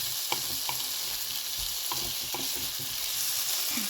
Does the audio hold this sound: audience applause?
no